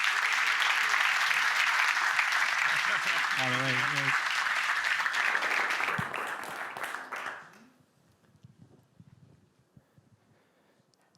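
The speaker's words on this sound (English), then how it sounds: "Ladies and gentlemen, big round of applause." A demo day audience claps loudly and steadily for about seven seconds before the applause fades away, and a voice briefly calls out over the clapping.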